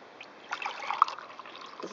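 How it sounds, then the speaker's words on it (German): Water poured from a one-litre container into a cooking pot of lentils and green beans at a campsite, a short soft trickle and splash lasting about a second, quiet and close. "fülle jetzt von einem Liter Wasser, den ich mir hier zur Seite gestellt habe"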